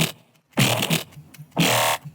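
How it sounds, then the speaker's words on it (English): A Growl Magma synth one-shot in the Vital synthesizer, used for brostep, fires twice as short, loud, buzzing growls separated by brief silence, each with a gritty, distorted snarl. "In between we have Growl Magma."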